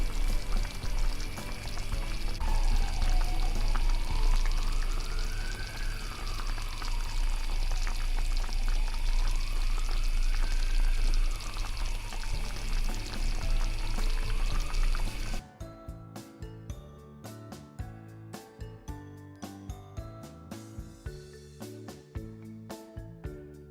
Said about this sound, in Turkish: Yemeğimiz çok güzel pişmeye devam ediyor